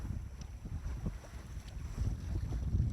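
Steady low wind rumble and buffeting across a microphone aboard a Wayfarer sailing dinghy crossing Pensacola Bay, with faint water sounds beneath, continuous and fairly loud throughout.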